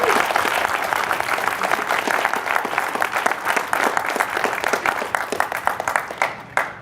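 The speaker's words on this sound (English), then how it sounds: "please thank me in sharing a round of applause with the entire Brain Trust of Access" Dense audience applause fills a demo day hall, many hands clapping steadily and loudly throughout before tapering at the very end.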